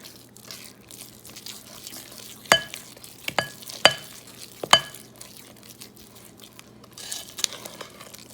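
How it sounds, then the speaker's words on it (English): Spoon or spatula stirring carrot cake batter with sour cream in a bowl, giving a few soft, wet scraping strokes at irregular intervals over a quiet kitchen background hum. "Stir it from the bottom to make sure you get it all blended."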